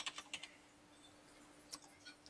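Keys clack on a computer keyboard during a web search on a PC: a quick burst of several taps, a pause, then a few more scattered keystrokes, faint and close with no talking.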